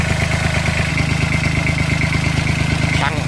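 A three-cylinder Isaki engine on a farm tractor runs steadily at idle with a fast, even clattering pulse, loud and close throughout, with a brief higher whine near the end.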